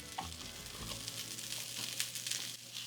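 Carrots and butternut squash sizzle steadily in a pan, a constant bright hiss with light crackles and a low hum underneath, close and moderately quiet, with no talking.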